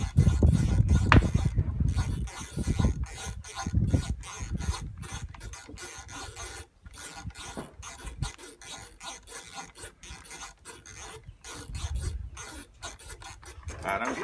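Turrets on an IOR Valdada 3-25x50 TX Raider riflescope are twisted hard, producing dense ratcheting clicks and raspy mechanical grinding that run close and steady throughout, with a few louder bursts.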